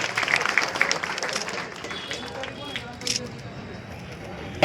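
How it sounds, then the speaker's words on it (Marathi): Audience applause at a felicitation ceremony for newly elected municipal councillors, a steady smattering of clapping hands with a murmur of crowd noise, loudest at the start and thinning slightly toward the end. "सर्वांनी टाळ्या वाजवायच्या आहेत."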